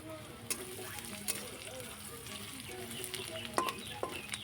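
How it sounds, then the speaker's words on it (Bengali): Garlic and chopped onion fry in oil for tadka dal with a soft continuous sizzle, punctuated by scattered stirring clicks and scrapes in the pan. "প্রথমে আমি একটু রসুনটা দিয়ে দিলাম হালকা করে রসুনটা যখন একটু ভাজা হবে তারপরে আমি দিয়ে দিলাম পেঁয়াজ কুচি"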